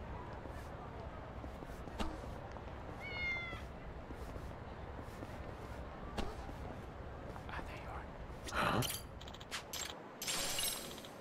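A cat meows in the video game Lost Judgment, a short soft mew followed later by a louder, stronger call, heard over faint ambient street noise with scattered clicks and footsteps.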